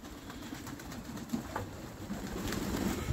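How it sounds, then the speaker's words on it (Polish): Pigeons in a loft feeding, with soft cooing and scattered pecking and shuffling close by, steady low activity throughout. "Zaczynają jeść gołąbki, mają do wody Bengasol"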